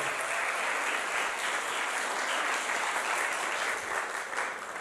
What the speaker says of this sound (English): Come on, clap real loud like that's actually going to happen.